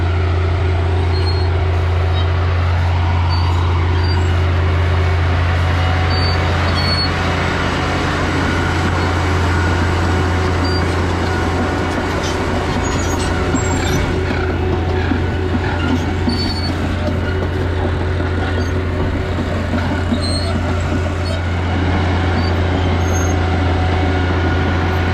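A large tile plow machine lays field drainage tile from a spinning spool into the ground, with a loud, continuous heavy diesel rumble and a low mechanical hum that hold steady throughout, close by.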